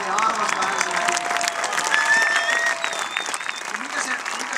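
Sustained audience applause mixed with crowd noise, dense and steady throughout, with voices and cheering blended in the busy crowd sound.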